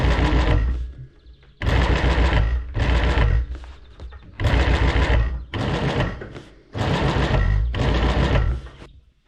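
Sewing machine stitching a felled seam for Renault 4L upholstery, running in six loud, close bursts of rapid whirring stitches separated by short pauses.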